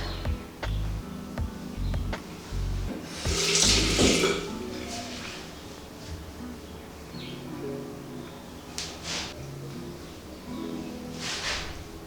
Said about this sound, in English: I get a little bit of water on my hand.